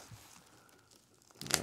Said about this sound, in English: Okay, lots of tape. It's taped up really good.